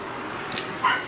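Dogs on a snowy day give brief yips and a whimpering bark, close by and loud, one sharp yelp standing out near the end of a short burst.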